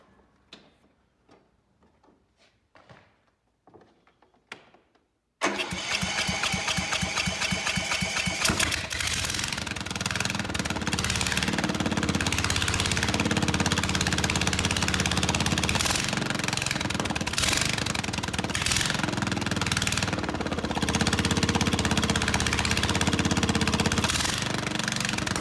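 Car engine with a blown head gasket: a few sparse clicks, then it starts abruptly and runs loud and steady with a rough, rapid pulsing chatter for the remaining twenty seconds.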